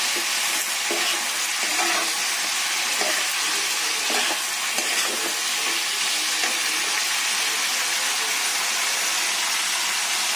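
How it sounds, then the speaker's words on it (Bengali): Garlic paste frying in hot oil in a pan for Bengali dal gives a continuous bright sizzle, with soft intermittent stirring scrapes underneath, close and steady with no talking. "রসুনটা আগে বাটা হয়ে যাক না, ভাজা হয়ে যাক একটু।"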